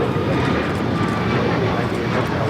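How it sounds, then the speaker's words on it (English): An Alaska Airlines Boeing 737 MAX 9 departing LAX bound for Portland, Oregon, its steady jet roar running throughout with a person talking over it. "This is Alaska Airlines 1127 taking off to Portland, Oregon on the MAX 9."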